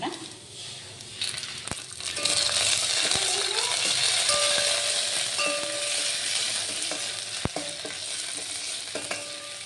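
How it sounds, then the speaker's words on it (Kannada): Cashews, raisins and poppy seeds fry in hot ghee with a rising, steady sizzle, and a spoon clinks and taps sharply against the pan now and then. The sounds are close and nobody speaks. "ತುಪ್ಪ ಸ್ವಲ್ಪ ಬಿಸಿ ಆದಮೇಲೆ ಇದಕ್ಕೆ ನಾನು ಗೋಡಂಬಿ, ದ್ರಾಕ್ಷಿ ಆಮೇಲೆ ಗಸಗಸೆ ತಗೊಂಡಿಲ್ಲ ಅದು ಹಾಕಿ ಫ್ರೈ ಮಾಡ್ತೀನಿ"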